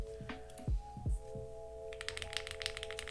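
Brisk typing on a Create Keebs Thera75 mechanical keyboard, a quick run of crisp, close clicks following a few low thumps and a faint steady hum.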